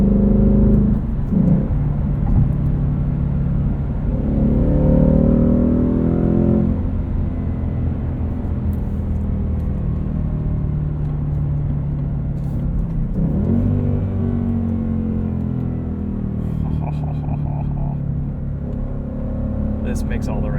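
A 2020 Ford Mustang GT Convertible Performance Pack with a six-speed manual, its engine rising and falling in pitch as it accelerates through revs. The engine sound is steady and loud throughout, with a deep, rumbling tone.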